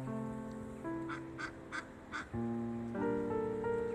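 A pair of ducks on the first snow of the season in Orel calls out in a short series of nasal, honking quacks, fairly close, with a soft background hum and no speech.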